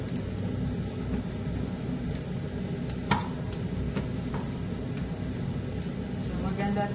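Steady sizzling and bubbling from a pot on a stove with sweet potato boiling, continuous and close, with a brief clink and a voice talking over it.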